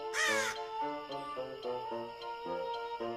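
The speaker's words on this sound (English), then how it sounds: "That is one mean-looking bird." Harsh cawing crow in the video game Kelvin and the Infamous Machine, one loud opening caw followed by a steady run of repeated calls over soft game music with faint ticking.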